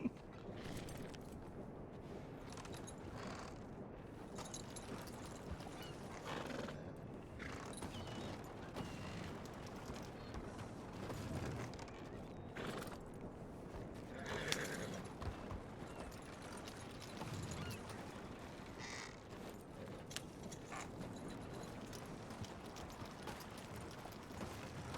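A horse-drawn wagon is driven in a Wild West video game. Steady clip-clop hoofbeats mix with creaking and rattling wheels and run continuously at moderate level.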